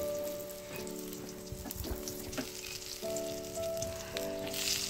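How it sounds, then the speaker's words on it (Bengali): Eggplant slices coated in gram flour batter fry in a wok. A continuous bubbling sizzle with scattered crackles sits over a steady tonal hum in the room, with no one speaking. "বেগুনি ওইভাবে করতে রেখে দিয়েছি, দিয়েছি কড়াইয়ের মধ্যে, ওটা হয়ে গেলে তুলে নেব"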